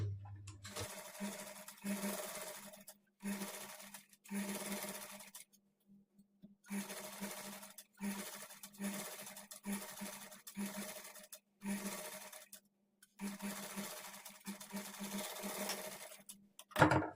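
Sewing machine stitching the lining of a blouse neck, running in several loud bursts of rapid whirring separated by short pauses and silences.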